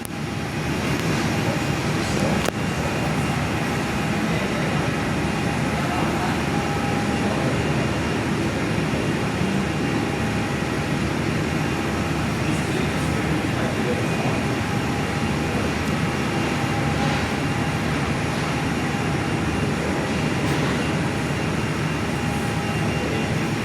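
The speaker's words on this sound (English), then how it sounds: "So it's a Qantas A319 that's just touched down." A Qantas Airbus A319 touches down on runway 24 at Perth, heard from an indoor viewing spot as a steady, loud broadband roar of jet engines and rushing air that holds without a break for over twenty seconds, with no talk.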